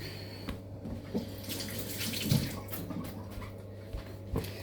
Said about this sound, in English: I'm just going to wet my hands